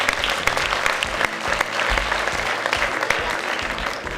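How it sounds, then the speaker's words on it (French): A crowd at an awards ceremony applauds a winner steadily, a dense wash of clapping that holds at the same level throughout the short stretch. "Les applaudissements pour Steven Chevrier, s'il vous plaît."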